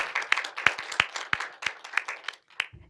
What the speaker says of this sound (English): Can we just give him a great big round of applause for the work that he's done?